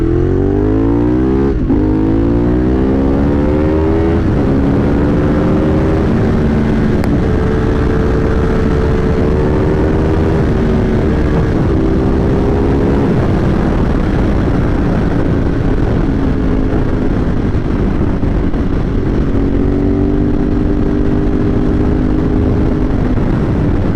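A motorcycle downshifting and braking hard on a coastal road, a loud steady engine drone with stepped drops in pitch as gears change, heavy wind noise throughout.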